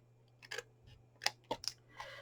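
A few short snips and crisp cuts as scissors trim card for a chunky gift box, quiet and close, in brief separate bursts with a faint steady hum underneath.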